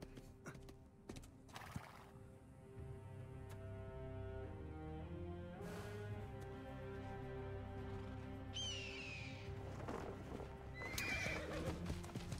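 Horse hooves clip-clop at a gallop with loud whinnies and snorts in the video game Assassin's Creed Origins, layered over a rumbling game score, plus a brief bird call near the end.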